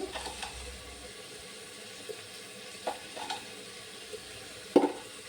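Salted mixed vegetables fry softly in a pan for vegetable rice, giving a faint, steady sizzle with scattered stirring scrapes and clinks from a spatula.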